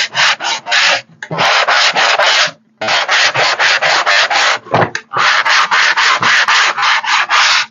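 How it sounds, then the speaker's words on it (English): Wood is sanded by hand with a sanding block, making loud, rhythmic back-and-forth rasping strokes in quick bursts, with short pauses between sets of strokes. "I think I'm going to sand this."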